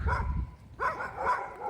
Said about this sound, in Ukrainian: Бачиш, ті собаки, вони турбуються що ти прийдеш на їхню територію